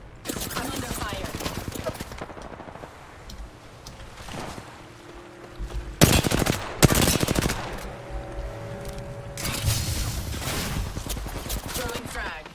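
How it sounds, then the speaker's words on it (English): Gunfire in a shooter video game, with rattling automatic bursts and scattered shots, loudest in two dense volleys, mixed with in-game voice callouts. "I'm under fire."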